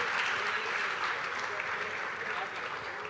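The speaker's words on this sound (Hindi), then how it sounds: "ओके जोरदार ताली एवरीवन" An audience at an IIT Delhi session claps in a steady, fairly loud round that thins slightly toward the end.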